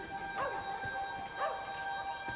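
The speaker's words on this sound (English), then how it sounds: "I hear children. A dog." A dog barks twice, spaced about a second apart, in a Wolfenstein: The New Order cutscene, each bark carrying a falling tone over a steady musical drone.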